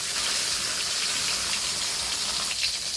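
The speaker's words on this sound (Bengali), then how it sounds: "কড়াইতে মাছগুলো দিয়ে দিলাম, দিয়ে মাছগুলো ভালো করে ভেজে নেব।" Tilapia fish pieces frying in hot oil in a wok, giving a steady, dense sizzle and crackle close by with no talking.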